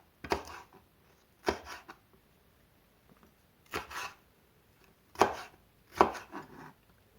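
A knife cuts peppers into squares on a board, giving five crisp, separate chops spaced unevenly over a quiet background.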